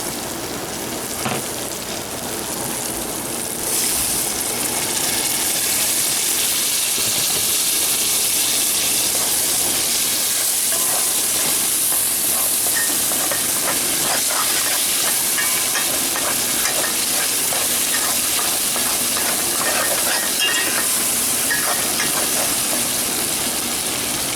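Tomatoes sizzle in a hot pot for Guyanese egg curry, a steady loud hiss and crackle that swells after a few seconds and holds unbroken with no voices.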